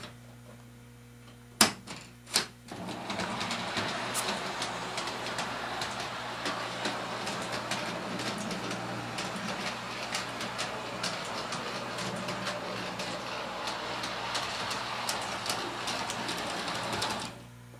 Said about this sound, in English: You can see the train stops and operates just as it did before.